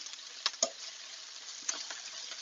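Lamb shanks sizzle in a pan on a gas stove, a quiet continuous frying hiss broken by a few sharp pops and spits.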